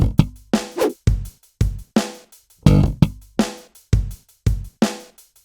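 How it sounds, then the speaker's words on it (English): Muted slaps on a bass guitar in a stomp-style slap exercise, percussive thuds with short pitched notes in a steady repeating rhythm, close and clear. "do a muted slap"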